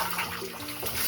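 Cold water poured and splashing while someone bathes outdoors at the source of the Godavari river, a steady close wash of splashes and trickles with no talking.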